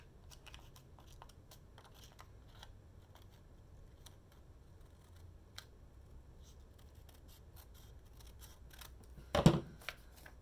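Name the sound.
scissors cutting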